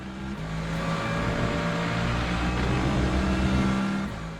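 A race car engine at the Imola circuit drones loudly and steadily from close by, holding a sustained high-revving tone with slight shifts in pitch and no voices.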